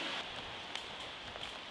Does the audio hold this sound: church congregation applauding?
no